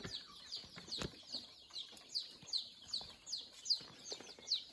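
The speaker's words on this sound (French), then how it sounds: "Il y a plein de poussins." Chickens and chicks in a Laotian village at Muang Ngoi: a steady run of high peeping chirps with soft clucks and rustling underneath, nearby and fairly quiet, with no talk.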